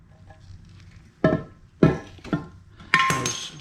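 A bearing drops out of a Honda Civic transmission case, landing in a few sharp metallic knocks and clatters spaced about half a second apart, close by in a quiet workshop.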